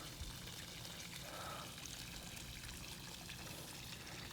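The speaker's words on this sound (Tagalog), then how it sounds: "lumalabas na uli yung tubig kasi nawala yung bara" Water pouring out steadily after a blockage cleared, outdoors in springtime in Canada, a continuous close rushing trickle with no talk.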